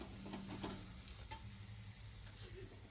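Onion-tomato masala with garam masala being stirred in a pan in a home kitchen, a soft steady sizzle with scraping strokes of a spoon, faint and close.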